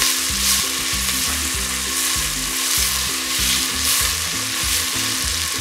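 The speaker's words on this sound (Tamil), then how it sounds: "இந்த வெங்காயத்தை நல்லா வந்து கேரமலைஸ் பண்ணி எடுத்துக்க போறோம்" Onions sautéing and caramelising in a pan for chicken biryani, a loud continuous close sizzle with stirring, no voices.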